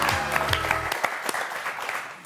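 Studio audience applause on the French game show Motus, brief clapping that starts under the tail of a voice and some musical tones, then continues as scattered bursts for about two seconds.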